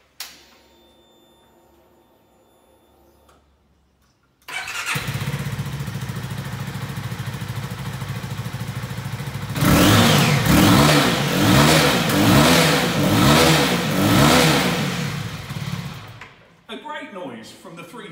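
A CFMoto 300NK 300cc motorcycle engine with underslung exhaust cranks and fires up, idles with a steady throb, then revs hard in repeated bursts before settling back down.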